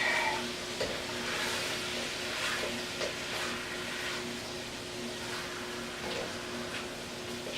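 Shrimp frying with garlic in a pan for seafood chowder, a steady soft sizzle with occasional pops and stirring scrapes over a faint background hum, moderately quiet with no speech.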